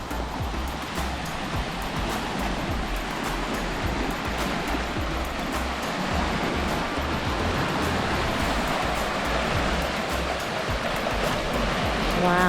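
Waves wash constantly against the rocky beach below Split Rock Lighthouse in Minnesota, a dense, loud roar of surf with no break across the whole stretch.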